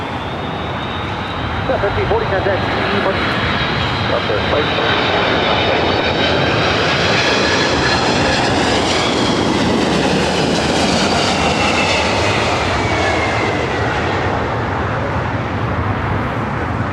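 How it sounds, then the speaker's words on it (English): An Airbus A321 jet takes off at Los Angeles International Airport, a loud, steady engine roar filling the whole stretch with a rising and falling whine, heard from fairly close. "A321 now rotating."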